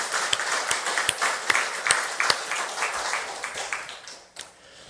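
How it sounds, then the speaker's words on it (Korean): A church congregation claps together during an anniversary Sunday service: distinct, fairly rhythmic claps from a large group, loud and close at first and thinning out toward the end. "자, 우리 다 같이 우리 하나님께 영광의 박수를 한번 올립시다."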